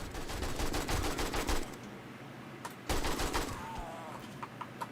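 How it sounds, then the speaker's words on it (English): Automatic gunfire in the survival video game 7 Days to Die: a rapid, loud burst of shots, a brief lull, then a second burst with a fading tail. "Shoot the feral ones."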